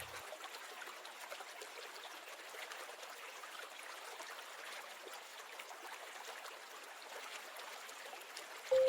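A river flows steadily through open countryside, with a soft, even rush of running water and no breaks or voices.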